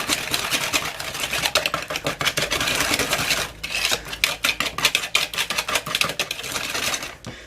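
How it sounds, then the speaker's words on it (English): An egg is whisked into chocolate cake batter in a bowl, giving rapid, steady scraping and clinking strokes that carry on close-up for several seconds with only brief pauses. "whisk this one in too"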